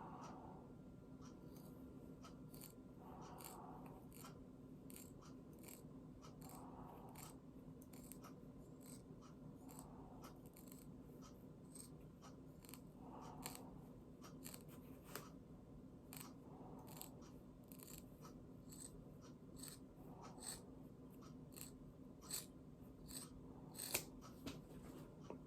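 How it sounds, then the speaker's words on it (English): Scissors snip through a shoe insert, trimming it down to size 10 for an Air Jordan 12 "FIBA" restoration; a steady series of close, crisp cuts repeats throughout over a faint background hum. "I'm gonna cut this off to a size 10 because that's the size of the shoe"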